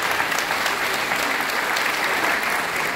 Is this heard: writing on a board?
no